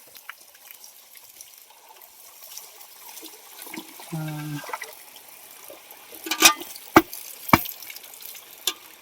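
Freshly caught fish and water pour out of a container in a short splashing gush, followed by a few sharp wet slaps and knocks, heard outdoors under quiet background noise.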